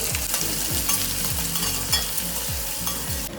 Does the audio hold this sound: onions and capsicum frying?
yes